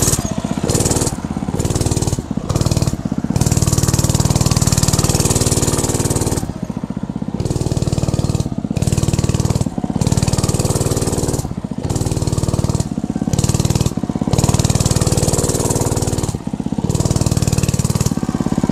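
A 105cc mini bike engine drones loudly and steadily as the bike rides in a tight circle, its note breaking up in repeated rhythmic dips as the throttle is eased and reopened.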